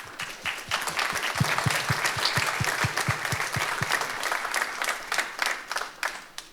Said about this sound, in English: yes, let's applaud Faye all day, every day.